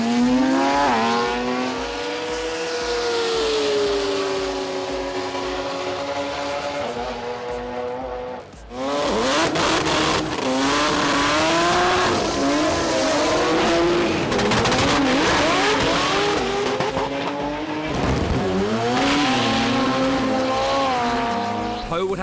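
Race cars, including a Toyota Supra and a Mazda RX-3, roar around the circuit at the Sydney Jamboree race meeting. Engines rev and shift through the gears in a loud, continuous, close pass-by, with pitch sweeping up and down throughout.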